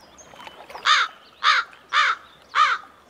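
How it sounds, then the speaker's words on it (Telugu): A crow caws four times in an evenly spaced series, clear and fairly close, with quiet background between calls. "ఏంట్రా ఆ కాకి చావు చావు నరుస్తుంది?"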